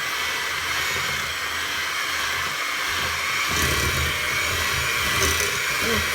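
An electric hand mixer beats pumpkin oatmeal cookie dough with an added egg yolk, a steady, close whirring drone that holds through the clip with a slight shift in tone partway.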